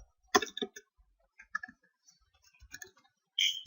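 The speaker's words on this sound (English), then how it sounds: "So somebody is going to type like this" Typing on a computer keyboard: scattered clusters of key clicks, a dense burst near the start, sparse taps in the middle and another burst at the end, close and fairly quiet.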